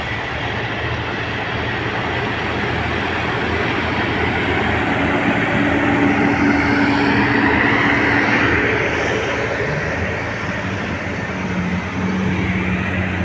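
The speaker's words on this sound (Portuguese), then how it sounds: "Dois tratores pisando solagem." Two tractors compact silage for the 23/24 harvest, their engines a steady, loud, continuous drone with rumbling low tones throughout.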